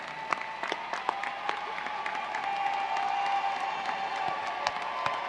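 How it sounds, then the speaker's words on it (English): Graduates at a university commencement clap for their families in a large hall, a sustained crowd applause with scattered sharper claps and a faint cheer, heard from some distance. "let's give them a round of applause"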